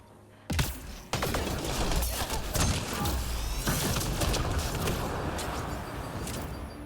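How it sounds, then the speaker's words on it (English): Gunfire aimed at the player in a Mass Effect Andromeda battle, a dense barrage of sharp overlapping shots and impacts that bursts in abruptly and stays loud and continuous for several seconds, with no talk over it. "What the hell's shooting at me still?"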